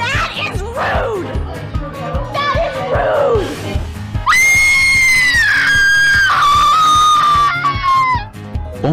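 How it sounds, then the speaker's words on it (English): A child screams at length at close range, with piercing sustained cries that rise and fall over a few seconds, set against a noisy home. "stop fucking screaming"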